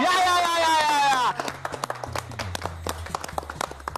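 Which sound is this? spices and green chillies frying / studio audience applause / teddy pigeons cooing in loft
studio audience applause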